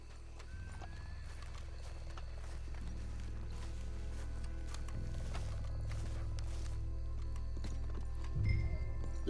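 Horse hooves clip-clop in a steady walking rhythm in the video game Red Dead Redemption 2, moderately close, with faint ambient background and no talking.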